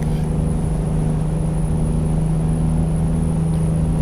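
Modded heavy truck engine in American Truck Simulator, a deep, steady diesel drone with a strong low rumble and constant whine, loud and close, running evenly with no talking.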